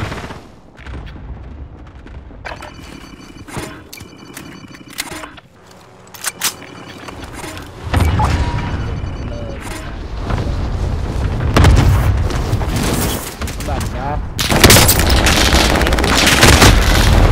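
Video game gunfire from a semi-automatic weapon crackles in loud, sharp bursts over a dense din of booms and shots, growing heavier and busier toward the end.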